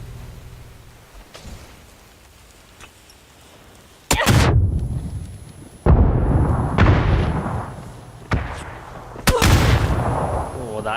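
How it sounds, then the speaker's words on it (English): Grenade explosions in PUBG during a qualifier match, several heavy booming blasts in quick succession with debris rumble, over esports commentary. "That's a good nade dropped in as well."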